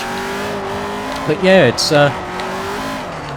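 A Mercedes-Benz 190E racing through a tunnel in Forza Motorsport 4, engine droning steadily then rising in two quick revving bursts with a brief tire chirp, while someone talks over it.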